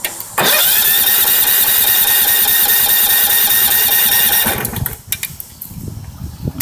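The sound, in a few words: small engine being started, failing to fire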